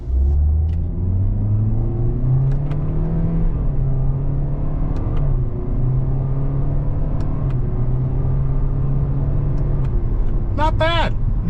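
A 2025 Toyota Corolla XSE Hatchback pulls away under throttle, its engine rumbling and rising steadily through the clip, with a voice talking over the cabin drone.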